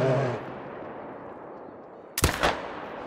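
A single gunshot fired at a bear in a Yukon Valley hunting video game cracks out sharply after a quiet stretch, leaving a brief rumbling tail, with a voice fading out just before.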